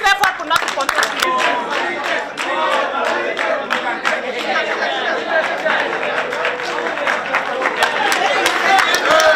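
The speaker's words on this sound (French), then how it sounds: "On applaudit très fort pour notre contribution." Audience at a storytelling event applauding loudly, a dense, uneven burst of many hands with sharp individual claps, mixed with crowd chatter and cheering voices throughout.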